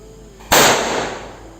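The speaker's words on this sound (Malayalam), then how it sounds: "അച്ഛൻ എന്തായാലും കൊടുന്ന പടക്കങ്ങളൊക്കെ ഒന്ന് ടെസ്റ്റ് ചെയ്യാണ്." A single firecracker bursts with a sharp, loud bang during Vishu festival celebrations, followed by a brief decaying crackle and rumble, with no talking.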